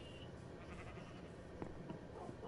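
A few faint Minecraft sheep bleats over a steady low background hum, the calls short and scattered near the end.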